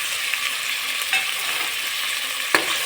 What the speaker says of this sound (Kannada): ಇದು ಫ್ರೈ ಆಗಿ ಎಣ್ಣೆಲ್ಲ ಬಿಟ್ಟಿದೆ.